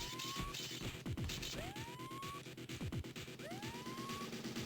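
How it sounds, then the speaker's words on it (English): A rising, whooping siren tone repeats about every two seconds in the 2001 game X-Men: Reign of Apocalypse, layered over loud game music and busy clattering action. "What is this siren?"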